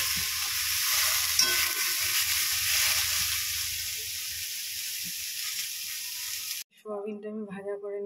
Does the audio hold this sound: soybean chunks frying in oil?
yes